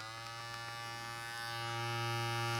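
An electric hair clipper with adjustable power hums steadily with a low buzzing drone, getting slightly louder toward the end as it runs at maximum power, with no voices.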